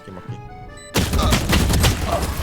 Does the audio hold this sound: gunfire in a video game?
yes